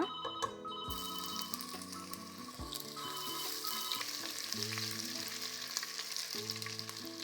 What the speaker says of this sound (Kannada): ತುಪ್ಪ ಬಿಸಿಯಾಗಿದೆ ಶೇಪ್ ಕೂಡ ಫ್ರೈ ಆಗಿದೆ ಅದರೊಂದಿಗೆ ಜಿಂಜರ್ ಗಾರ್ಲಿಕ್ ಪೇಸ್ಟ್ ಸ್ವಲ್ಪ ಹಾಕೋಣ